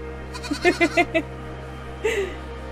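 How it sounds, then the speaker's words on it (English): A quick run of four short sheep bleats, including lambs, followed a moment later by one more, over a steady low electronic hum, in the video game Aer. "More sheep! Baby sheep!"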